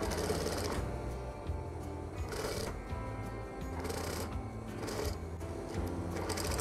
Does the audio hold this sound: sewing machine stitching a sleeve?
yes